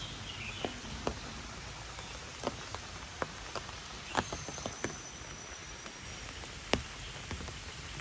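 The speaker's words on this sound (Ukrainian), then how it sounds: "ви можете чути, як краплі дощу роблять свій такий цікавий звук" Raindrops patter on an umbrella held outdoors by a park near a restaurant in Thailand, as sharp scattered taps over a soft steady rain hiss, fairly close, with no talking.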